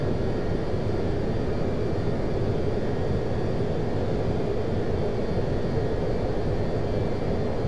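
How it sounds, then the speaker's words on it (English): Fighter jet engine in Flight Simulator X, a steady dense roar with no changes as the aircraft cruises over Washington. "We're just cruising around in a fighter jet"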